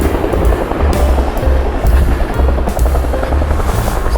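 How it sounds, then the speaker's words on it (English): A firefighting helicopter fills up with water at a dam, its rotor making a loud, steady, thumping drone close by throughout. "Chopper's busy filling up water."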